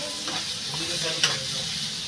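Potatoes hitting a frying pan for a Bengali egg-and-poppy-seed dish, giving a steady near hiss of sizzling oil with a few brief scraping clatters as they are stirred in.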